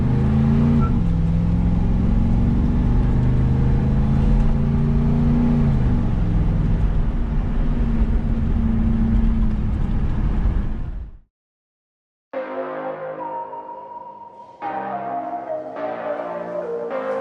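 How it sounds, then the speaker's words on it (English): A 1984 Camaro Z28 driving around town, a loud steady engine drone heard from inside the car with rising and falling revs, then a sudden cut to silence followed by a lighter tonal hum. "Just driving around town."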